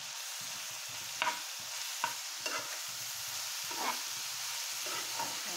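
Pointed gourd and potato stir-fry quietly in a pan with salt, a faint steady sizzle broken by several soft scraping stirs of a spatula at irregular intervals, no voices.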